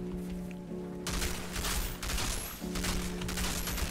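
Sustained gunfire in the video game Outriders, played solo as a Technomancer, dense rapid bursts over a droning game soundtrack, loud and continuous with brief pauses.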